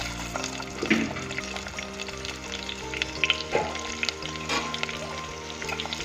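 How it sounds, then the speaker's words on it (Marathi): Thinly sliced onion fries in hot oil and ghee with cumin for chicken biryani, a steady close sizzle broken by occasional stirring scrapes and clinks; no voices. "जिरे पण छान फुलले की त्यांना हलवून घ्यायचं त्यात घालायचा आपण उभा शिरलेला बारीक कांदा"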